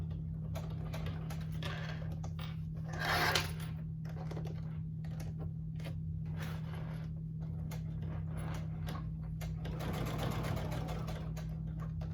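A domestic sewing machine stitching down a leather wallet runs steadily throughout, with a constant low motor hum under a busy stream of fine needle ticks and a brief louder burst early on.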